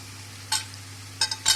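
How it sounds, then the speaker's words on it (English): Onions, curry leaves and diced capsicum stirred in a frying pan, a low hum under a few short, brisk scraping bursts of the spatula, close and without speech. "Now we mix all these ingredients once again together."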